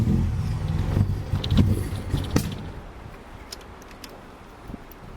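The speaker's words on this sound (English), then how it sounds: "car took on the first try and started idling much better" A smoking used car engine cranks and catches on the first try, rumbling low and close before settling into a quieter idle with light clicks.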